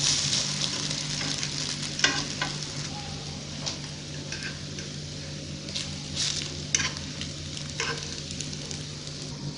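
Masala bread toast fries in a pan during a homemade breakfast recipe, giving a soft continuous sizzle broken by occasional clinks and scrapes as the slices are turned.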